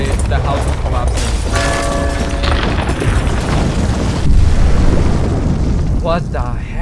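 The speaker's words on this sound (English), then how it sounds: "the house is collapsing" Black Ops 3 zombies trailer: a house collapsing amid an explosion, with heavy low rumbling booms and crashing debris filling the whole stretch, a louder surge near the end, and speech-like voices mixed in.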